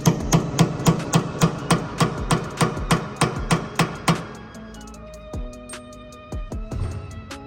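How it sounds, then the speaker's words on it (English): Repeated metal hammer strikes on a staking tool against the axle nut of a Toyota GR Corolla, about a dozen loud, evenly spaced blows, then a few scattered taps and clinks. "we're going to use one of these tools to de-stake the axle nut itself"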